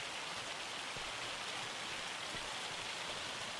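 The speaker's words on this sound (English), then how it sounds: "Right when I get in, it starts hailing." Hail pelting down in Farming Simulator 25, a dense, steady hiss of countless small impacts that stays even and unbroken throughout, with no voices over it.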